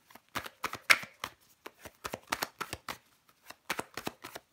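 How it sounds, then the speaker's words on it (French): Tarot cards are handled and laid down on a table in a quick series of crisp slaps and shuffling flicks, close and fairly quiet, with no talking. "On va recouvrir des cartes."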